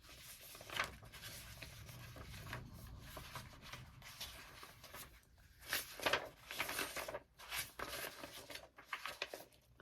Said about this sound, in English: Sorry for the rustling of paper.